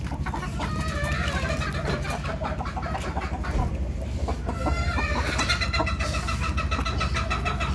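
Chickens of the naked-heel breed cluck busily and continuously at close range, with layered overlapping calls and occasional louder squawks over a dense background hum.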